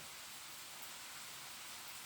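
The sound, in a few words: rain on a rainy morning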